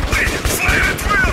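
Rapid bursts of gunfire in Metro 2033 Redux, close and loud, with quick repeated shots crackling together in a short fusillade under an excited voice.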